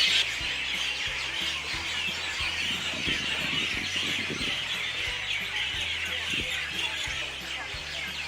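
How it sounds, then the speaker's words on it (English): Dense, loud birdsong fills the air, a constant high chorus of chirps and trills with a steady background hum. "And I've never heard birds singing so loud."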